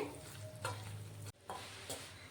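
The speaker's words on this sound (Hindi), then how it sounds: "इस गेहूं के आटे को हम मीडियम आंच पर इस तरह से सेक लेंगे।" Wheat flour roasting in hot ghee over a medium flame, stirred steadily with a spoon scraping the pan, giving a soft sizzle and rhythmic scraping strokes, close and fairly quiet.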